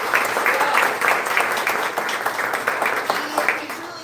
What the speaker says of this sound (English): can we just give a round of applause for Cyrus?